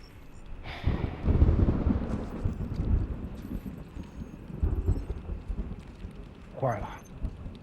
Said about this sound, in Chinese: 现场下雨了